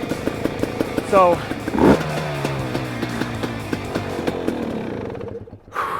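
A 2020 KTM TPI two-stroke dirt bike engine runs with its battery unhooked, a loud, near, buzzing idle with a couple of brief revs, while a voice speaks briefly at the start.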